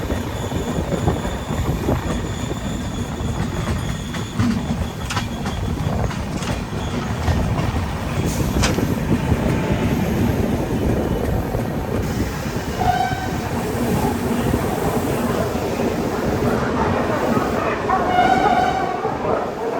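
The Visakhapatnam LTT Superfast Express rolls along the rails with a dense, continuous rumble, steady clatter of wheels and occasional squeals, loud and close throughout.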